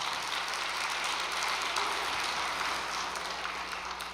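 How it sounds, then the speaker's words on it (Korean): A congregation at an all-night special prayer vigil gives a round of applause, a fairly faint, even wash of clapping heard from a distance in a reverberant hall with a low steady hum underneath. "그 친구를 위해서 박수 한 번만 보내주시기 바랍니다."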